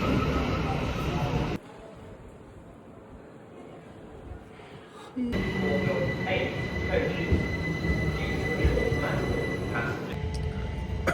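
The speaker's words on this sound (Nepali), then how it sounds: "ओके, अब हामी चाहिँ एउटा अर्को ट्रेन चढिसक्यो, ग्याटविक एक्सप्रेस भन्ने" Riding aboard a Gatwick Express train in England, a low rumble of wheels and carriage fills the cabin, quieter at first, then swelling into a louder, steady rolling noise with faint squeals.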